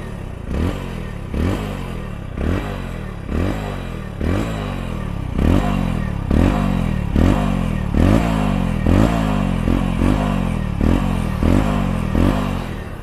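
Exhaust note of a Hero Splendor BS6 motorcycle: a steady, close putter with evenly spaced thumps that quicken slightly partway through, heard alone with no talking.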